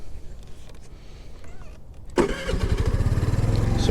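A 2022 Honda Navi small motorbike engine in freezing weather cranks with a faint whir, then catches at once and settles into a loud, steady, rapid running putter.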